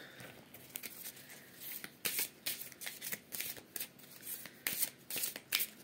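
Tarot cards being shuffled by hand close up, a quiet run of rhythmic riffling bursts that repeat steadily with short gaps.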